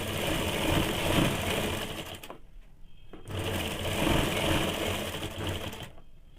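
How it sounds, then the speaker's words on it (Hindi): A sewing machine stitches a petticoat waistband in two loud, fast, continuous bursts, each a few seconds long, separated by a short pause and ending abruptly. "तो मैं इसको जोड़ के सिल के बताती हूँ।"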